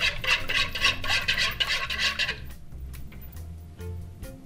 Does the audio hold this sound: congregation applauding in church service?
no